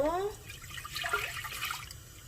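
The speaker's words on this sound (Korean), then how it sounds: "육수를 붓고" Broth being poured into a pot for Korean cheonggukjang (fermented soybean paste) stew, a steady splashing liquid pour close by that runs for a couple of seconds without talk.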